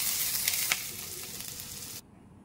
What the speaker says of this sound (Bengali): তাতে দিয়ে দিলাম আদা গ্রেট করা আর কাঁচা লঙ্কার কুচো